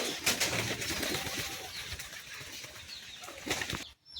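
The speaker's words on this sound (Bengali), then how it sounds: "দেখেন সব হলো দেশি কবুতর।" Native domestic pigeons coo nearby with bursts of wing flapping, a few sharp flutters standing out over soft, continuous cooing before a sudden cutoff at the end.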